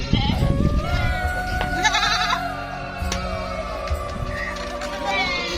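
Goats and young kids bleat repeatedly at a goat farm in Sarail, Brahmanbaria, with overlapping calls close by and farmyard background noise throughout.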